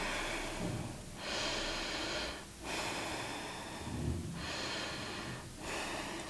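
Slow, deep breathing during a yoga flow, with drawn-out airy inhales and exhales alternating in a calm rhythm of about three cycles. Close and soft, with no talking.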